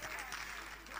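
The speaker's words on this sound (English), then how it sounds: "let's give a round of applause to Nya Yukwe" Applause from an audience at an annual general meeting livestream, a steady wash of clapping held at a constant level for a moment, fairly faint and distant.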